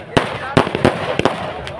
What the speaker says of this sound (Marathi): फटाक्याची आताशबाजी म्हणजे कुस्ती चालू झाल्या.